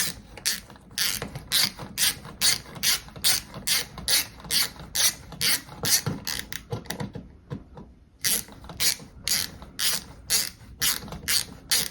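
Screwdriver ratcheting as the two mounting screws holding an electrical outlet in a wall box are backed out, rhythmic clicking strokes repeated steadily with a short pause midway, close and clear.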